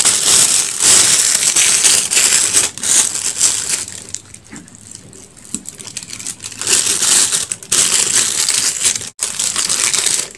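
Cake batter is pushed into a plastic triangle piping bag, giving close, loud crinkling and crumpling of plastic that runs almost continuously, briefly quieter in the middle.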